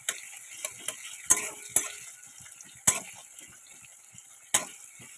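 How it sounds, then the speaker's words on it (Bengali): Chopped onion fries in a pan with a soft sizzle. Scattered sharp clinks and taps of a utensil against the pan punctuate it at irregular intervals. "পেঁয়াজ কুচি করা, এটাও এর মধ্যে দিয়ে দেবো। দিয়ে ভালো করে পেঁয়াজটাকে বাদামি বাদামি কালার করে নিতে হবে।"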